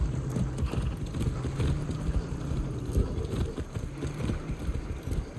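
Horse hooves clip-clopping steadily in Far Cry 6, a continuous run of close, moderately loud hoofbeats over a low rumbling game background.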